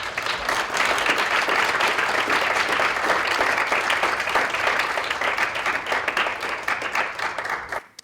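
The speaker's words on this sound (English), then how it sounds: "please join me in giving a huge round of applause to our fabulous panelists" Audience applause for a panel at a climate justice event, a dense, sustained round of clapping from a sizable crowd, loud and steady for about seven seconds before quickly fading out, no talking over it.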